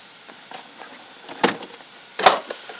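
A refrigerator door opens in a home kitchen with a few soft clunks and a firmer thump near the end, close and isolated against quiet.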